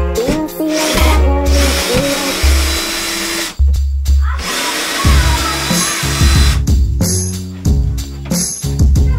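Screws being taken out of an attic access panel, heard as loud, close bursts of power-tool whirring broken by short pauses, knocks and scraping.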